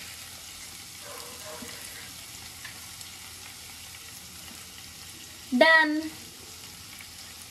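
Chicken fry sizzles steadily in a pan while coriander is stirred in, a soft, continuous frying hiss with light scraping. A brief voice cuts in near the end.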